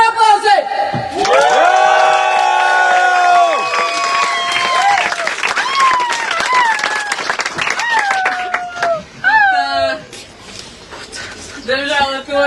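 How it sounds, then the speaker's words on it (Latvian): An audience at a live show breaks into applause. Loud voices cheer and whoop over a wash of clapping, which fades into scattered claps and shouts near the end. "Par aplausi!"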